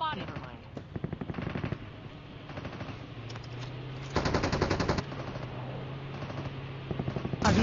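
Rapid bursts of automatic gunfire crackle in a Call of Duty battle royale video game match, with repeated volleys of varying length, some closer and louder, under faint voice chatter.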